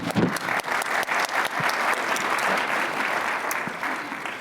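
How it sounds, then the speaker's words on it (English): Conference audience applauding a panel at a national security summit, a warm round of clapping that starts with a few sharp claps, fills into steady applause from a room of people, then begins to fade. "So please join me in a warm round of applause for Karen and this wonderful panel."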